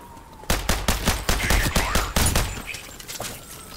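Rapid bursts of gunfire from the indie first-person shooter Out of Action, a loud volley of closely spaced shots, the sniper rifle, followed by a few fading reports and a brief echoing tail.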